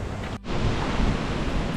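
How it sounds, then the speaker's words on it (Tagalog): Strong, steady wind rushing and roaring close to the microphone, with a brief dip before it surges again. "naririnig nyo yun? Hangin yun"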